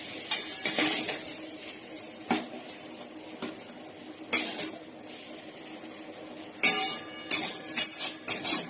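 Spices frying in a hot pan, a soft sizzle punctuated by several sharp clinks and scrapes of a utensil against the metal, close by.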